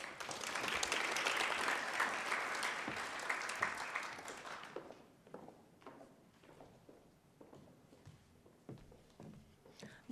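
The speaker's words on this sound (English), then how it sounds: "And give Angele a round of applause." An audience at a journalism symposium breaks into loud, dense applause that fades after about five seconds into scattered claps, shuffling and a few footsteps as the speaker comes to the stage.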